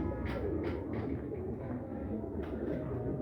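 Pigeons of a netted-pattern breed, kept by a breeder, coo softly in low repeated murmurs that run steadily throughout, with no talking over them.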